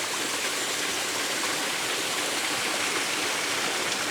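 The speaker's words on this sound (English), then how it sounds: "Now facing the waterfall straight on." A waterfall roars in a steady, loud, unbroken wash of rushing water heard up close, with no voices.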